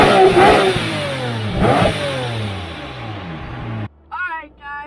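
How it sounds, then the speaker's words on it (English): A Lamborghini engine revs hard twice from outside the car, each rising and falling blip loud and close, then it drops away to quieter settling with a brief voice-like sound at the end. "I'm going to give you guys some revs too"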